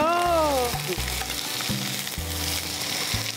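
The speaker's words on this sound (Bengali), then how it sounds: "এটা ভাজা হতে হতে তেলটা আর একটু বেরোবে।" Chopped pieces of fat fry in oil, giving a continuous close sizzle. Low harmonic hums and a brief rising whine sit underneath, and no one speaks.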